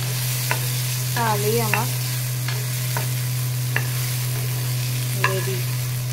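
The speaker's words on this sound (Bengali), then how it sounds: "এবারে সেদ্ধ কচুটা দিয়ে নুন হলুদ দিয়ে জাস্ট নাড়াতে হবে" Boiled taro being stirred with salt and turmeric in a pan, giving scattered scraping and clinking strokes over a steady low hum, with a brief voice at one point.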